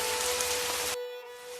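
Steady hiss of rain falling on a surface, which cuts off abruptly partway, leaving a quieter, thinner patter.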